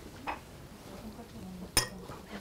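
Lids are set onto glass flasks of antifreeze samples, giving two faint clinks of glass, the second sharper, in a quiet room.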